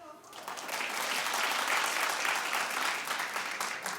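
A studio audience at a daytime talk show claps together, swelling quickly into a full, even wave of applause that holds and then begins to thin out.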